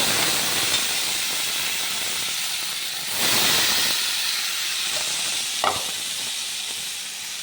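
Sugar added to hot ghee in a kadai gives a steady, soft hiss and sizzle, with a brief swell of sizzling midway and a faint scraping stir near the end.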